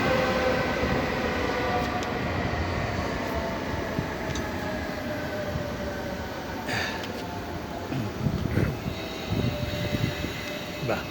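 A train pulling out of Ripoll station toward Barcelona, a steady broad rumble and rolling hum that holds throughout, with some faint squeals and a few brief clanks near the end.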